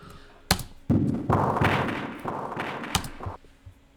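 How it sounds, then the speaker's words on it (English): Processed gunshot samples, resampled with a low-pass filter plus reverb and delay, land as a few muffled heavy thuds followed by smeared, echoing tails that swell and decay over several seconds. "These are just gunshots"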